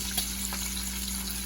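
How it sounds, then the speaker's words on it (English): Bacon fries in a pan with a steady, even sizzle and faint crackles over a low electrical hum, with no talking. "nothing smells better than frying, bacon frying"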